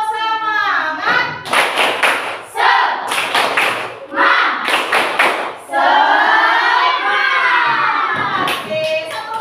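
Classroom of Indonesian students doing a spirited rhythmic clapping chant, bursts of loud hand claps in patterned groups mixed with shouted children's voices, close and lively.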